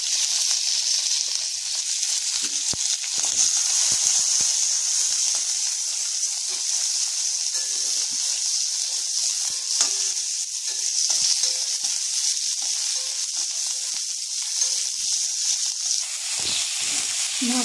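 Prawns frying in hot mustard oil with mustard seeds, giving a steady, bright sizzle that holds evenly throughout, with occasional faint clicks and stirring sounds.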